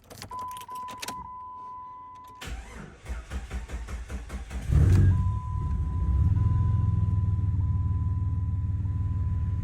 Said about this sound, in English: Let's see if the Grand Cherokee will turn on.